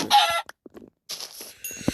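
A Minecraft chicken clucks in short bursts, a few quick cackles separated by brief silences, close and fairly quiet.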